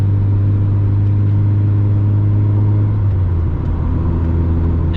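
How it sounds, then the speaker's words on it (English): Mazda MX-5 Mk2 engine pulling steadily back up to about 50 mph on a UK road at night, a loud, continuous droning hum that shifts pitch slightly partway through as it settles. "There we go, pretty much 50 mile an hour back up to the speed limit."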